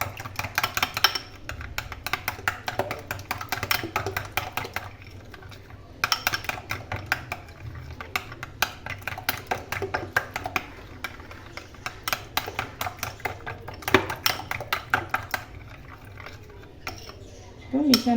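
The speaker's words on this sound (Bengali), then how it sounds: "ভালো করে মিশিয়ে নিতে হবে।" Egg and crushed Marie biscuit batter is stirred in a bowl, with rapid, uneven tapping and clicking of a utensil against the bowl, close and fairly quiet, pausing briefly now and then.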